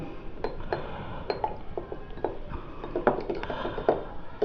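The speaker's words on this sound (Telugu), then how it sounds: "ఈ వాటర్ని మిక్స్ చేస్తున్నాను ఇప్పుడు" Glass containers holding RO water and municipal water clink and tap lightly as the samples are mixed, scattered soft knocks and chinks against a quiet background.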